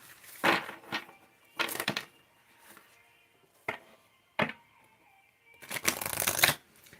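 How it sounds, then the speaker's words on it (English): A deck of cards being shuffled in quick, crisp bursts of riffling and snapping, close and fairly quiet, repeated several times with short pauses between. "This one wanted to fall out while I was shuffling."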